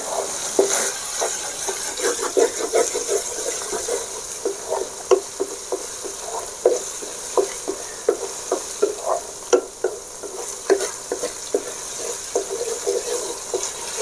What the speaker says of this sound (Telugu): అల్లం వెల్లుల్లి పేస్టు పచ్చివాసన పోయేంత వరకు ఇలాగే నూనెలోనే ఉడకబెడతాను